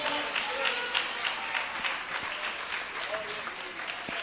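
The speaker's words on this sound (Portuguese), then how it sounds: "Aplaude o nome de Jesus, aplaude o nome de Jesus." A church congregation at an IPDA Bible study applauds in a steady, dense wash of clapping that holds for the whole stretch, with a voice speaking over it.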